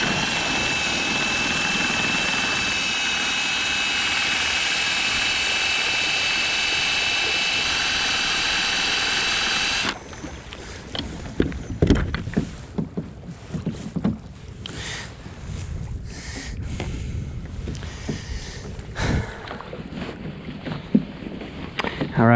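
A drill-powered paddle motor drives a small boat across a lake. A loud, steady motor whine runs for about ten seconds, then gives way to choppy splashing and knocking as the boat moves. Nobody talks.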